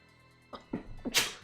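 A single sharp sneeze breaks out after a short wind-up of breathy catches, close and fairly loud against a quiet background.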